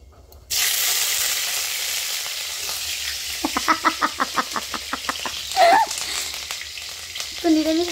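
Black cumin seeds and green chillies dropped into hot oil in a wok: a sudden loud sizzle bursts in and holds steady, with a quick run of rhythmic crackling pops and a few short background noises, close up.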